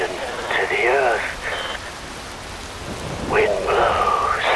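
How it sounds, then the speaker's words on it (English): Rain falls in the video game Metal Gear Rising as a steady hiss that holds through the clip, with loud, sweeping tonal effects rising over it twice. "Wind blows, rain falls."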